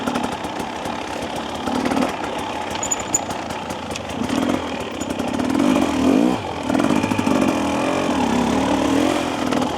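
A 2025 Husqvarna TE300 dirt bike rolls on in third gear along a wet off-road trail, its two-stroke engine buzzing steadily up close and then revving harder as it accelerates.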